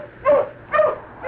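Dogs bark close by, with three quick, sharp barks evenly spaced.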